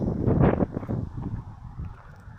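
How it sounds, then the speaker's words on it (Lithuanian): Gusty wind buffets the microphone with a low, rumbling roar that swells early on and then eases to a steadier, quieter rush, strong enough to bend flags. "Vėjas nemažas, tas vėliavas lenkia."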